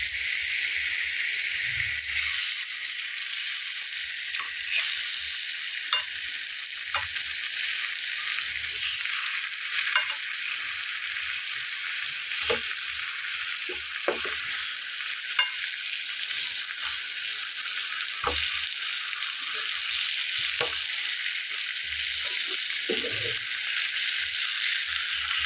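Raw mango pieces frying in a pan with a sprinkle of salt and turmeric give a steady, bright sizzle throughout. Scattered stirring clicks and scrapes sit close over it, and no one speaks.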